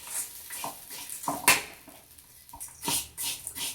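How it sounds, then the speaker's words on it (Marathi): Poha chivda tossed and mixed in a metal pan, with irregular clinks and scrapes of a spoon against the pan and one sharp knock midway. "परत याला सगळं मिक्स करून घ्यायचं आहे."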